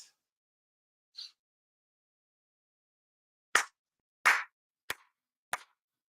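Sharp ritual hand claps at a monthly Japanese prayer service: two faint early claps, then four louder separate claps spaced about half a second to a second apart, each alone in a quiet room.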